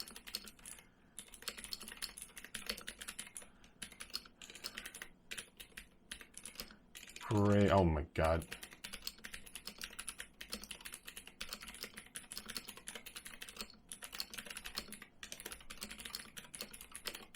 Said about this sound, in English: Let's do a keyboard test here, or a typing test. 1 minute test, start typing.